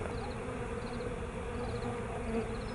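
A swarm of bees hums around a hive and a nearby branch, a dense, steady buzzing that stays close and continuous with no voices.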